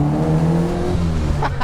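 A 140 bhp Indy RX-5 Aerorace sports car, built from an MX-5 Miata, accelerates inside a tunnel, its loud engine note climbing and echoing off the walls at close range.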